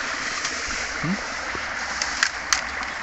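Shallow stream water runs steadily past a fish trap set at the mouth of a flowing channel, a soft constant wash with faint gurgles, while someone speaks nearby.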